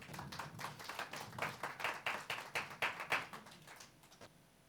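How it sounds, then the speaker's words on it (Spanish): A church congregation clapping in praise to the Lord, a fairly faint, rhythmic run of distinct hand claps in a steady beat that rises slightly and then tapers off. "Un aplauso al Señor, aleluya."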